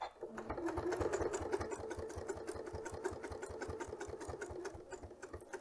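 Sewing machine stitching quilt binding toward a mitered corner, a steady rapid mechanical thumping of the needle at an even pace, close and continuous.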